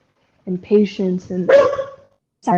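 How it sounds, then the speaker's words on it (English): A dog barks in a quick run of four or five yips and a longer bark, loud and close, overlapping a person talking in a quiet room. "that's a dog"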